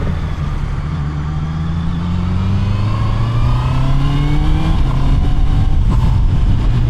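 Honda CBR 650 motorcycle with E-Clutch, engine note rising and falling through several gear changes, loud and close with steady wind rush behind it.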